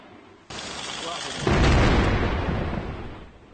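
An explosive demolition brings down half of a bridge under construction 286 m above a mountain valley in Colombia. A sharp blast gives way to a loud, sustained roar and rumble of collapse that slowly fades.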